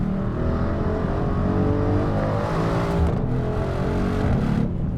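A Mercedes-AMG GLC63S Coupe, a non-EU version, accelerates away with a steady, loud engine roar that holds for several seconds, close by and with no voices.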